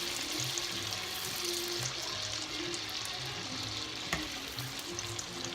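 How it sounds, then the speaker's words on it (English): Small spring rolls fry in hot oil with a steady, close crackling sizzle that holds evenly throughout, broken by a few faint pops and soft bubbling. "So now we're just throwing in the spring rolls. It'll take about 3 minutes to cook a spring roll."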